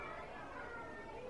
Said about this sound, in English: There seems to be like a whole school of kids outside my window.